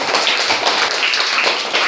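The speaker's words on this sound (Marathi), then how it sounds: "टाळ्या वाजवायच्यासाठी." A group of students claps together in a classroom, a dense, steady burst of hand claps filling the whole moment at close range with no talking over it.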